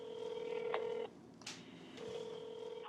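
Telephone tones sound as a call is placed, a steady tone that stops, followed by a short burst and then another sustained tone, clear and close with no talking.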